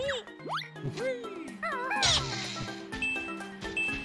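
A cat meows repeatedly, with rising and falling cries and an occasional caterwauling whine, close and fairly loud, mixed with game sounds in the background.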